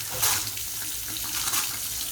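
Water rushes steadily and continuously from the drain during a water heater flush, loud and close, with a constant splashing hiss.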